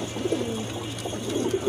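A pair of pigeons coo steadily at close range, soft repeated low calls running through the whole moment over a faint background hum.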